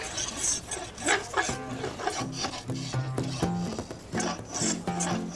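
Steady rasping and rubbing of sandpaper on the wooden neck of a guitar, repeated back-and-forth strokes with a scraping texture, close up, with no talking.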